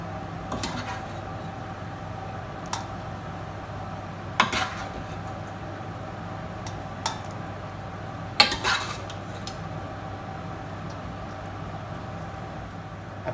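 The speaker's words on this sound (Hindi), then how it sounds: "अब हम सालन की तह लगाएंगे, कौरमे की।" A spoon spreads a korma layer over rice while assembling chicken biryani, with a few sharp clinks and scrapes against the metal pot spaced out over quiet kitchen background.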